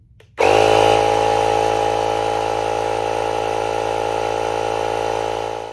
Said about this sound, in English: As you heard, it is quite loud, which is normal for a compact compressor.